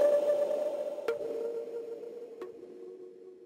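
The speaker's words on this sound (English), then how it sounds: "my favorite thing is this percussion hit, and I added some delay on it, and on each delay hit I turned the pitch down 4 semitones." A percussion hit with a delay effect, each repeat pitched down four semitones, sounding as a couple of sharp clicks over a sustained mid tone that fades across a few seconds.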